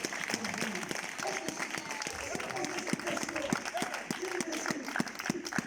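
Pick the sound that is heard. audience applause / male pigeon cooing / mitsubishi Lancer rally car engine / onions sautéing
audience applause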